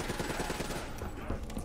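Rapid bursts of gunfire in Call of Duty: Black Ops 3 zombie mode rattle in quick succession, dense and continuous over a short stretch, with no talking.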